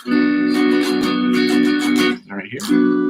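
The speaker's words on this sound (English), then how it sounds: "Now we're going to the bar chords that sound something like this right here." Guitar bar chords strummed in a loud, sustained rhythmic pattern with a brief pause and slide before the strumming resumes, alone without talk.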